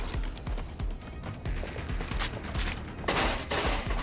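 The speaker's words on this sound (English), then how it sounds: "Somebody's shooting." Gunfire crackles in the PS5 game Watch Dogs Legion as a fast run of sharp, overlapping shots and bursts that fills the clip at moderate loudness.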